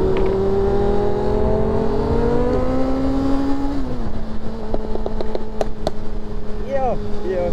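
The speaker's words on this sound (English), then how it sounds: "Listen to this Audi." An Audi revs loudly and close, its engine note climbing through several sustained rising tones, joined by other sports cars on a road run, with short sharp pops near the end.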